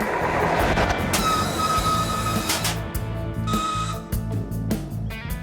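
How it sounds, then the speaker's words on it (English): A heavy, fully laden oil freight train rumbles loudly and continuously, with metallic clanking, squealing wheels and grinding rail noise as it pulls away and picks up speed. "0 to 50 on a fully laden oil train."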